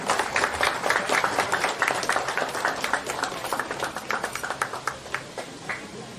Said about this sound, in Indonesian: Sekali lagi mari kita berikan tepuk tangan yang meriah.